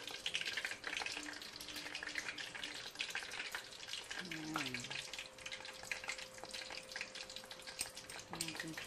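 Galunggong fish lumpia frying in hot oil, giving a dense, close crackle and bubbling that runs throughout, with a faint voice briefly in the background.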